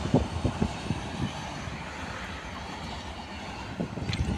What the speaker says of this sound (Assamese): এতিয়া ৰেলটো গ'ল সেইটো লাইনেৰে গৈছে